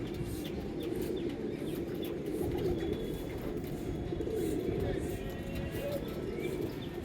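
Pigeons, including Kalanka birds, cooing and fluttering close by in a steady, busy murmur, with low rumbling coos running throughout.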